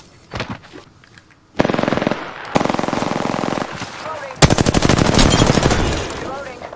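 Rapid automatic gunfire in the battle royale shooter Apex Legends during a Wraith match, with bursts of loud, close, sustained rattling shots separated by short pauses, and a voice heard briefly.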